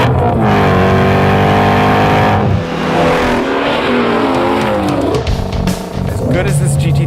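A Ford Mustang Shelby GT350 engine revs loudly and continuously, pitch sweeping up and down through several rises, while someone talks over it.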